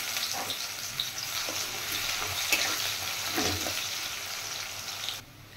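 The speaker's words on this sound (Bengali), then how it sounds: "এবার আমি তেলে দিয়ে দেব কুচিয়ে রাখা পেঁয়াজ" Chopped onion sizzles steadily in hot oil in a home kitchen while a paneer and potato dish is cooked, a close, continuous frying hiss with faint stirring and scraping, and no voices.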